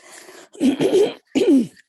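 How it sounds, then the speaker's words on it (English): A few short, rough throat-clearing coughs in two bursts, close and fairly loud, with a brief pause between them. "Now I'm going to need to cough."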